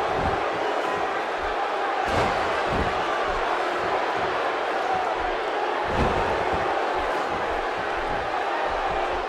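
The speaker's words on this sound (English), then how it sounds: "by the sound of this crowd, I think they're getting what they wanted" A large arena crowd at a WWE tag team wrestling match roars and cheers steadily, a dense continuous wash of voices with a few sharp thuds and louder swells throughout.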